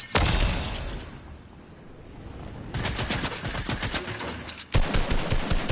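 Rapid bursts of gunfire in Fortnite, loud and close, with dense crackling volleys that ease briefly, then surge again in sustained bursts of overlapping shots.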